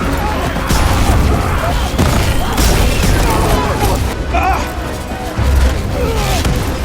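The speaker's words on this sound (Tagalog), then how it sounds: "Sinubukan nilang takasan ang mga ito ngunit patuloy silang tinatamaan ng mga pagsabog." A film battle scene with a machine flinging explosives, heavy booms and crashes bursting over one another in a loud, dense barrage, with a narrating voice running beneath it.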